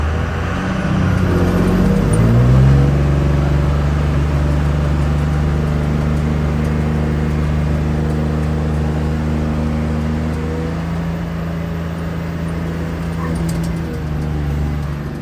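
An engine-swapped car with a six-speed manual does a third-gear burnout. The engine climbs sharply, then holds a loud, steady, droning roar with a whining tone over it.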